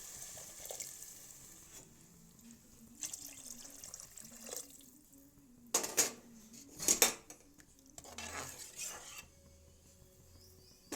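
Water is poured into a pot for biryani rice in short splashing bursts. Clinks of pots and utensils sit between the pours, all fairly quiet and close by.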